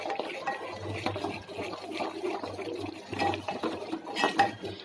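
Chilli powder, salt and turmeric are stirred into a masala in a pan for an aloo curry: soft, steady scraping and clinking of a spoon against metal, faint and continuous with a low hum behind it.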